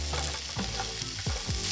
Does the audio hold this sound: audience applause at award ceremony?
no